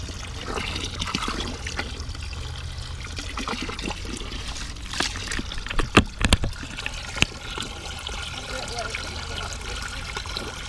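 Water drains steadily into a newly installed yard catch basin, a continuous trickling, gurgling flow with a few louder splashes and clunks near the middle, heard outdoors up close.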